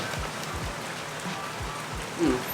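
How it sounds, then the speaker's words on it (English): Steady heavy rain pours down on a Toronto street, a continuous wash of hiss at moderate level with a few low thumps of drops hitting a surface nearby. "the rain is really coming down"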